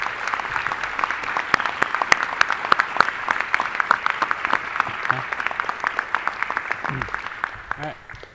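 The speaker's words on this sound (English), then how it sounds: "Let's have one more round of applause for our class of 2019." An audience claps dense, sustained applause for a 2019 graduating class at a Cherokee High School Project Lead the Way graduation ceremony. A brief murmur of voices sits under the claps near the end as the applause starts to fade.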